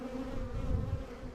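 Honeybees at an open hive give a steady, close, droning buzz for a brief moment, with no voices over it.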